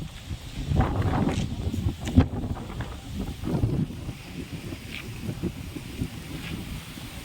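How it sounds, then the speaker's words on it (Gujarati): Strong gusty wind blows dust across a work site before rain, roaring and buffeting the microphone as a steady rough rush with stronger gusts early on. "બહુ જ વધુ પવન અને ધૂળની ડમરી."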